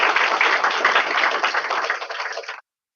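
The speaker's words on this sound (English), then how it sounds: "we can have a big round of applause to her also" Audience applause at a computing systems workshop session, a dense steady round of clapping that fades slightly and stops abruptly after about two and a half seconds.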